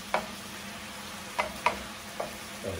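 Maitake (hen of the woods) mushrooms frying in a pan with a few drops of soy sauce and salt, a steady soft sizzle broken by a handful of sharp clicks and pops from stirring, with no talking.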